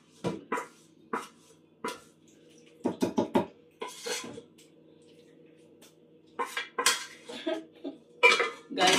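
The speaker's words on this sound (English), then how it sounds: "So I'm going to go and wash the pot" A cooking pot being washed by hand, with sharp intermittent clanks and clatters of metal cookware and utensils in short bursts over a faint steady hum, close by and with no talking.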